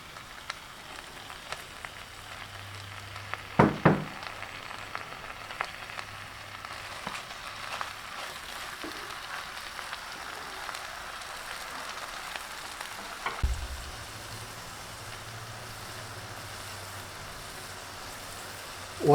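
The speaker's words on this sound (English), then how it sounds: "And now throw in your baby spinach." Baby spinach sizzling in a frying pan while making creamed spinach, a soft steady crackle with a few louder clatters and faint background hum.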